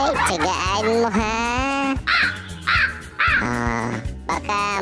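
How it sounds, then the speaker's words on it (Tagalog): A crow caws repeatedly in loud, hoarse bursts with short gaps between calls, close by and filling the clip, heard during a road trip from Cagayan de Oro to Gingoog City. "Ang liksi pa naman ang uwak."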